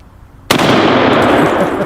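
A single sharp report from a .375 H&H Magnum rifle fired at a jug, a sudden loud blast followed by a long ringing outdoor echo that slowly fades.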